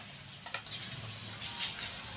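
Gram-flour-coated potato pakoda frying in hot oil in a kadhai, a faint, steady sizzle with a couple of brief crackling flares, heard alone.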